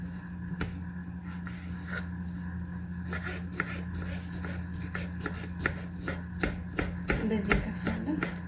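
A knife chopping cucumber on a board for salad, giving a series of close, crisp taps that quicken and grow louder toward the end over a steady low hum.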